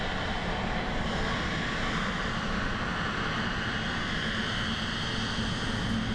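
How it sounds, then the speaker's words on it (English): A Cathay Pacific Airbus A350-1000 at Frankfurt airport gives off a steady, broad jet roar that stays even and constant throughout, heard fairly close with no talking. "Cathay Pacific A350-1000 headed to Hong Kong."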